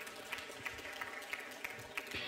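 At a debate event in Lyon, an audience applauds a speaker with steady, fairly faint clapping that carries on throughout.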